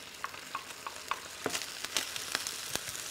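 Thin-sliced half onion hitting hot oil in a pan, crackling into a light sizzle with scattered sharp pops and snaps, fairly close and moderate in level, no voices.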